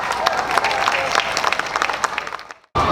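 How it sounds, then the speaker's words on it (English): Audience applause for the John Dewey High School dance group at Brooklyn BAF 2022, a steady crowd clapping with a voice over it, cutting off abruptly near the end. "Clap and put your hands together for John Dewey High School."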